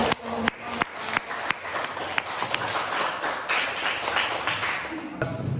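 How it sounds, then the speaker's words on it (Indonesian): Audience of students in a classroom presentation clapping, starting with a few sharp, distinct claps that build into a fuller round of applause with some voices underneath. "beri tepuk tangan"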